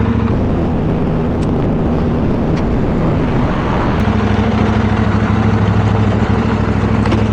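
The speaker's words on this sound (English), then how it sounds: "we're going to have to wait because there's a tractor coming down" A tractor engine on a countryside road, a loud, steady rumble with a deep low drone, idling or running close by throughout, no voices.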